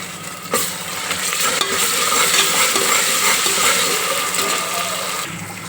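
Browned onions frying in a pan with a spoonful of ginger garlic paste for a mutton dish: a loud, continuous close sizzle with stirring and scraping throughout, and a brief clatter near the start.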